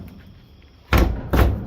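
A drooping shop door in a newly framed wall, swung shut with two heavy, close thuds about half a second apart, loud and without voices.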